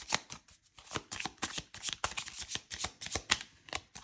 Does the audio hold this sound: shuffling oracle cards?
yes